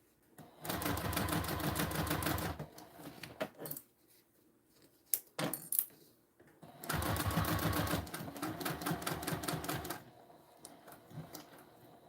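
A sewing machine top stitches fabric 3/8 inch from the edge in two loud, steady bursts of rapid stitching, each a few seconds long, with quiet handling and fabric shifting in the pause between them.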